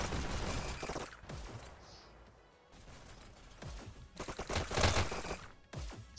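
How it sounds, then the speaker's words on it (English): Bursts of SMG gunfire in the VR shooter game VR Dash League, with rapid volleys separated by short gaps and one dense, loud stretch near the end. "Still more use of those SMGs"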